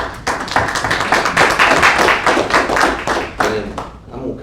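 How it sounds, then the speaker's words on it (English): Applause at a county board of education meeting, a mid-sized room clapping with dense, uneven hand claps close by, rising and fading over several seconds. "I think you deserve an applause"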